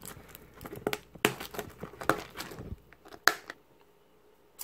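Crisp crinkling and snipping of scissors cutting through plastic packaging of a Pokémon mystery box, several sharp cuts in quick succession, close up.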